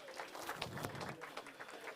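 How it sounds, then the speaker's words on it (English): Audience applause at a community networks summit held at a recreational center, a short, fairly soft burst of clapping from a seated crowd, with scattered claps standing out of the wash. "Give yourselves a round of applause."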